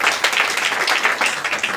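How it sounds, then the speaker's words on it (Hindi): An audience at a DXN business motivational meeting in India breaks into loud, dense applause, many hands clapping steadily and close together without pause. "एक बार इसके नाम पर जबरदस्त ताली"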